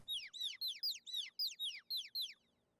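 Birds in the AI: The Somnium Files video game give a quick series of about nine bright, sharp chirping calls in even rhythm, clear and alone against near silence before fading.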